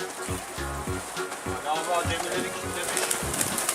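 Pigeons coo in repeated low, rolling phrases close by, with people talking in Turkish in the background and light ambient noise.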